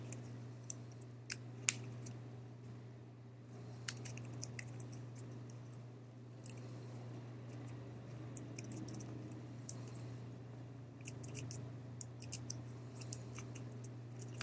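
Quiet, repeated snips of scissors cutting out paper craft pieces for a gift topper ornament, irregular short clicks over a low steady hum.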